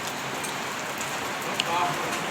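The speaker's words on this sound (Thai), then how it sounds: "ตอนนี้ ฝนตกนะครับ ผมมาหลบอยู่สาราโรงเรียนนะครับผม" Steady rain patters on the roof of a school pavilion in Thailand, an even close hiss of drops with a brief knock partway through. Someone speaks Thai over it.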